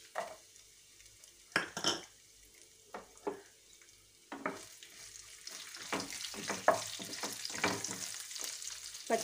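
Cumin seeds and garlic hitting hot oil in a pan, giving a faint crackling sizzle with bursts of stirring and clinks, fairly quiet and close, no talking.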